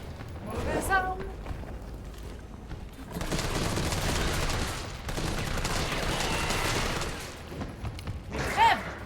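Gunfire from the video game Resident Evil 3: bursts of shots and loud game combat sound run through most of the clip, with a sharper burst near the end, while players talk over it.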